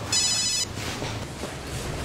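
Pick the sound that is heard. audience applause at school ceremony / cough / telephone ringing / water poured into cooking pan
telephone ringing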